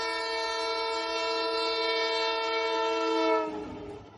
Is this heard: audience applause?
no